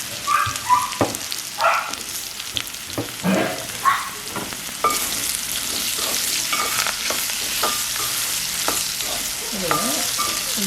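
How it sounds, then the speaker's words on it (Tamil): Plantain pieces fry in a pan while being stirred: a steady, bright sizzle of hot oil runs throughout, broken by scraping and clinking of the spoon against the pan, close and alone with no talk. "இதை கிளறி கொண்டே இருக்கும்."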